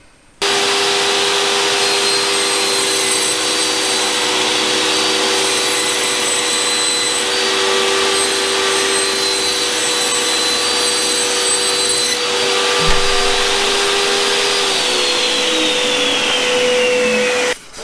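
A table saw runs with a loud, steady whine as it cuts a throat plate blank, with a brief thump partway through and the motor note winding down at the end before it cuts off.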